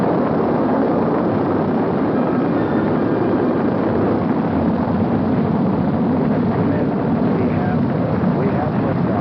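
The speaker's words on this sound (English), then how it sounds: "We have liftoff." The Apollo 11 rocket lifts off with a loud, continuous, rumbling roar that stays dense and steady throughout, heard through muffled archival broadcast sound.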